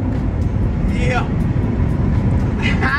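A C7 Corvette Stingray engine drones steadily from inside the cabin while driving, with a dense low rumble throughout and faint speech-like bits above it.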